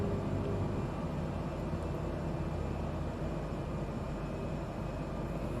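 A Cessna Caravan's turboprop engine drones steadily during an approach in Microsoft Flight Simulator 2020, a constant, even rumble and hiss with no distinct changes.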